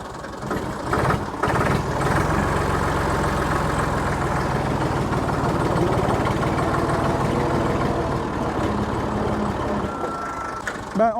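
A tractor engine runs steadily with a low, throbbing diesel drone and rhythmic pulsing, loud and close, while the vehicle sits in neutral and the clutch is tested; a voice is heard briefly over it.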